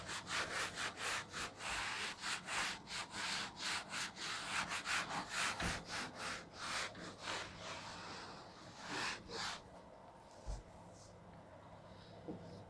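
Eraser or cloth rubbing out part of a written equation on a board, heard as a steady run of short rhythmic scrubbing strokes up close, fading to quieter scattered rubs near the end.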